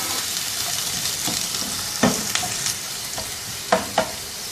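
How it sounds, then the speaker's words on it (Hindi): A medium onion fries in oil in a pan, a continuous sizzle close by with several sharp stirring scrapes and clinks. "सिर्फ इतनी देर तक प्याज को पकाएंगे कि ये हल्का सा नरम पड़ जाए।"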